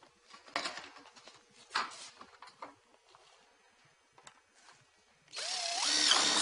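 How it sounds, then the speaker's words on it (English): A power drill drives screws through rake metal into roof fascia, heard as several short bursts of drilling followed by one sustained, loud whine with the motor pitch rising and falling near the end. "Screw the rake metal into the fascia."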